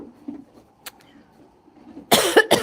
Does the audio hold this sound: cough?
yes